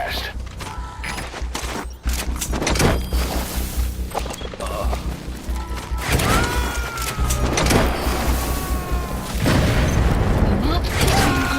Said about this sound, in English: Boss, did you see that explosion?